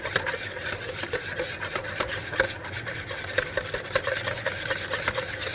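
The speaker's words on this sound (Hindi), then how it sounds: "अभी इसको मैं अच्छे से मिक्स करूँगी।" Cake batter containing butter and baking powder is stirred by hand in a bowl for a chocolate chip chocolate cake. Steady, rhythmic scraping and rubbing strokes repeat at close range.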